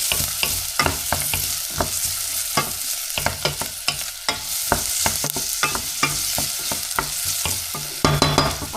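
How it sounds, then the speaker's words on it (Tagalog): Onions sautéing in oil in a frying pan, a steady sizzle with frequent sharp scraping and stirring clicks from a utensil, close and fairly loud throughout. "So, gisa-gisa lang ang sibuyas."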